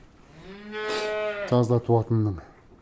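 A cow moos loudly nearby: one long, drawn-out low call followed by four short, clipped moos in quick succession.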